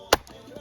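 A sharp blade chopping through a knotted wood branch at a winter bivouac, one crisp close strike followed by a fainter second chop and a light knock.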